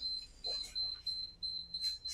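Workout interval timer during a guided foam-rolling session, sounding repeated steady high electronic beeps in an even rhythm, moderately loud, with a voice speaking over them.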